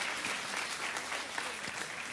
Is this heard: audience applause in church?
yes